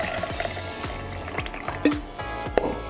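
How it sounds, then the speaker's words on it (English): Red wine vinegar is poured into a measuring cup up to the half-cup mark, giving a short liquid trickle with a few soft drips and splashes in a quiet kitchen. "I just poured it up to a half of a cup."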